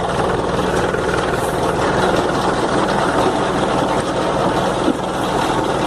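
An old tractor engine runs steadily while scraping ditches, a constant rough droning rumble that holds at an even level throughout without speech.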